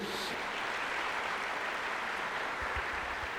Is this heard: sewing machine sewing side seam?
no